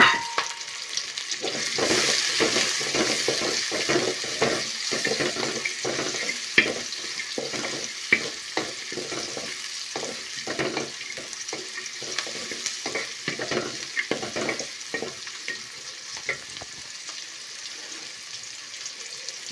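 Chopped onions frying in a pan for a beef and bottle gourd curry give a continuous crackling sizzle, punctuated by frequent rhythmic stirring scrapes that thin out toward the end, close and steady with no talk.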